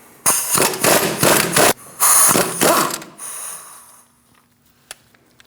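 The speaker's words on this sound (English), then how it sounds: "Using a 21mm socket, we're going to remove our nuts for our strut bolts." A hand ratchet turning a 21mm socket to loosen the strut bolt nuts on a 2012-2020 Chevrolet Sonic front wheel assembly, close and loud, in several quick clicking bursts, then a pause, then a couple more runs before falling quiet.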